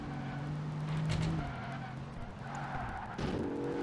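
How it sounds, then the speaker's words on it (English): A race car in Project Gotham Racing 2 skids under a droning engine, with tires squealing before it hits a barrier, all fairly quiet. "I took it too close and hit the inside barrier"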